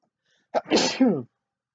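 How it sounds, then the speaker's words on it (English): One sharp sneeze, close and fairly loud: a quick intake of breath and then an explosive burst, followed by silence. "I'm about to sneeze as well."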